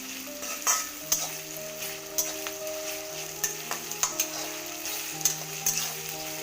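Onions sizzle steadily in a hot pan while a spoon stirs and scrapes in short irregular strokes, close up with no voices.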